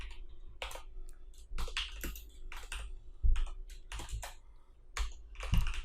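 Typing on a computer keyboard while writing PHP code: irregular bursts of close, crisp key clicks with short pauses between runs, at a soft level with no talking.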